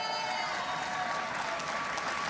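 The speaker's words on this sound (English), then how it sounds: "And then that gets applause." Convention delegates at an NDP convention applauding, a steady, fairly distant wash of many hands clapping with faint crowd murmur, continuous and even throughout.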